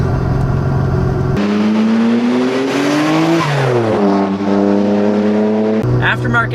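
A Nissan GT-R engine with aftermarket camshafts, fitted in a four-door sedan, accelerates hard at high RPM. Its loud, close engine note rises in pitch, drops at a gear change and then climbs again, with people's voices over it.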